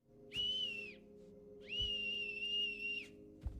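A film scene where a whistle is blown twice, each a shrill, steady tone; the first is short and the second is held for over a second, both fairly faint against a quiet background.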